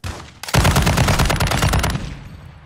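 Rapid automatic gunfire in Call of Duty DMZ during the White Lotus mission, a dense loud burst lasting about a second and a half, then quickly tailing off with no talk over it.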